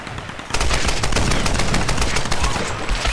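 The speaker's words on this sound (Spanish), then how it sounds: "me están disparando desde aquí abajo" Rapid automatic gunfire in the video game Tomb Raider, a dense, loud stream of shots bursting out after a half-second lead-in and continuing without pause.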